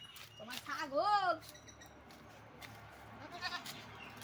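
A goat bleats once, a short wavering cry close by, followed by fainter bleats and quiet background noise.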